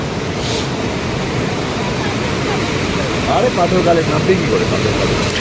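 River water rushes in a steady broad roar beside a rural riverbank, loud and close, with faint chirps of small birds over it and people speaking now and then.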